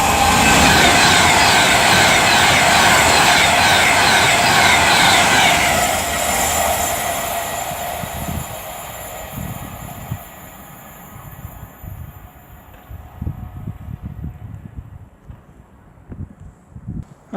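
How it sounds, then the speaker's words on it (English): An Avanti West Coast Class 390 Pendolino passes through Nuneaton on the West Coast Main Line, a loud rushing roar with rail hiss that fades over several seconds into scattered wheel clacks as it recedes. "now about to pass through will be 390 137 for Avanti West Coast, working 1 Alpha 65 from Manchester Piccadilly to London Euston"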